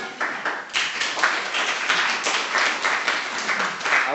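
Students in a lecture hall applaud at the end of a lecture, a steady wash of clapping that continues throughout.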